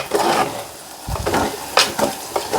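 Food frying in a pan, heard as a soft, steady sizzle with intermittent scraping and clinking from stirring, fairly close, with no talking.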